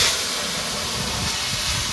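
Vegetables tipped into hot oil already tempered with a bay leaf and whole cumin, cooking for a thin potato fish curry, give a loud, steady, close sizzle that holds unbroken throughout with no talking.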